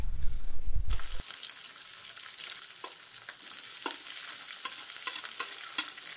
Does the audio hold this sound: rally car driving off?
no